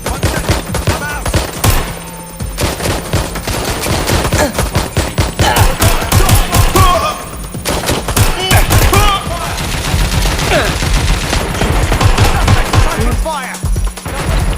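Rapid gunfire in Watch Dogs Legion, dense bursts of automatic shots and booms crowding together loudly, with short pauses, while a voice talks over the shooting.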